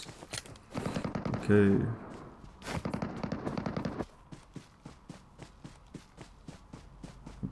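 Distant gunfire from other players in the PUBG Mobile Metro Royale mode, clustered rapid bursts early on followed by a long string of evenly spaced single shots, with a voice briefly speaking.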